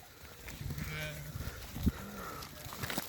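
A Beylagan-breed sheep flock on a farm, with low bleats and animal stirring heard faintly over steady background noise, one brief louder bleat standing out midway.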